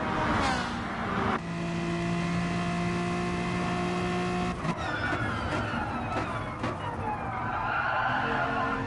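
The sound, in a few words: Ferrari and BMW race cars cornering on last lap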